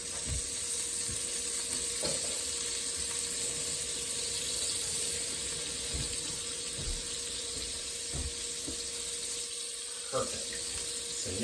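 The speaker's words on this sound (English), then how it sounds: "You hear that sizzle? That's what you want to hear." A continuous, fairly loud sizzle of butter frying in a skillet, with a few soft clicks and bumps underneath.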